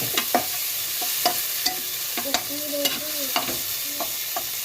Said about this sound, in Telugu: ఉల్లికాడ వేసుకొని ఇట్లా కలుపుకోవాలి.